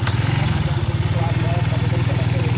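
A Suzuki Raider J115Fi motorcycle, just repaired after a no-power fault, idles with a low, steady, close-up engine throb and a fast regular pulse, while people talk over it.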